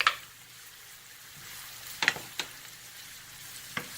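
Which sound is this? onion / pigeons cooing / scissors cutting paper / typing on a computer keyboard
onion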